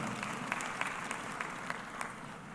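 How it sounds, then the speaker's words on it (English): Audience applause at a university graduation ceremony, heard as a faint, distant wash of clapping with a few sharper individual claps standing out at irregular moments. "Thank you for clapping."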